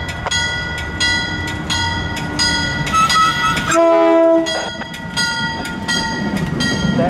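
A MARC commuter train rumbles past close by, wheels clicking rhythmically over rail joints, with a loud horn blast sounding midway through the pass.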